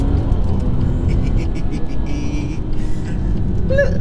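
A stage 1 tuned 2018 BMW M140i accelerates hard with brief wheel spin, its engine droning loud and steady from inside the cabin while people talk over it.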